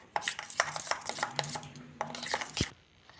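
Oil and flour being stirred together in a bowl for Dhakai paratha, with quick clinking and scraping strokes close by, alone and without talk.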